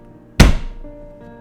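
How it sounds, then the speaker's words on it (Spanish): A human skull drops and lands with one loud, close, hollow thud. A short dull rumble trails off after it, with no other sound. "un fuerte sonido de algo cayendo me hizo sobresaltarme"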